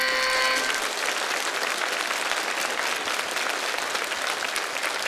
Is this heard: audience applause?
yes